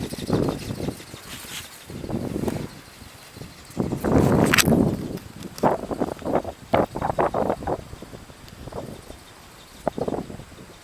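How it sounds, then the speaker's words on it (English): Wind rushing past during a Thunder Bird flight, gusty rumbling bursts that swell and fade repeatedly, close and fairly loud. "We got a little bit of wind, so we're climbing"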